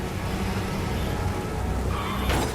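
Heavy rain pours steadily in a simulated downpour over the city of Gothenburg, Sweden, a dense, loud, continuous hiss and rumble with a brief brighter splash near the end.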